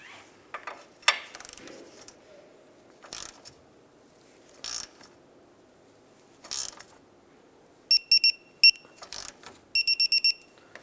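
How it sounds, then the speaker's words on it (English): A torque wrench tightens the lower ball joint nut on a 2001-2005 Honda Civic during a wheel bearing replacement, with scattered single ratchet clicks, then quick bursts of sharp metallic clicking near the end, close and crisp against quiet. "We're going to go ahead and torque that down to 45 foot-pounds."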